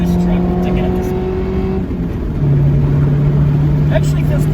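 A Honda Prelude's engine drones loudly and steadily, its pitch shifting as it accelerates to merge ahead of a truck in traffic, with road noise underneath throughout.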